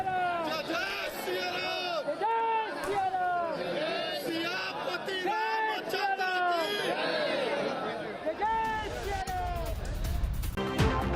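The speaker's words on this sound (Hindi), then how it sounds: "आज भी अयोध्या में लोगों की भारी भीड़।" A large crowd of devotees gathered at the Ram temple in Ayodhya, a dense babble of many voices with chanting or calls rising and falling throughout, fairly close, ending in a rumbling wash of noise.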